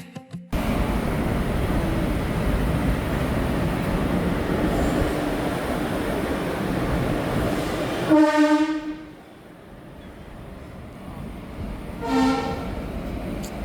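A train rumbles loudly along the tracks near Huligi, Karnataka, then two horn blasts sound, the second shorter as the roar fades.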